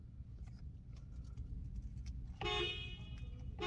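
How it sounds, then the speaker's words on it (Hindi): A short horn beep from a 2022 Mahindra Alturas G4 4x4 sounds up close over a steady low engine rumble and faint clicks. "इसका हॉर्न सेटअप।"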